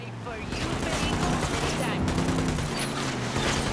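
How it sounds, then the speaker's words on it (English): Rapid bursts of automatic gunfire in the shooter game Ghost Recon Wildlands, dense and sustained with rumbling low end, mixed with voices talking. "I'm opening fire on these shitheads"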